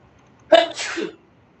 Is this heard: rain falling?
no